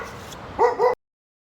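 Two small neighbour dogs give two quick, sharp barks close by, one right after the other, then silence.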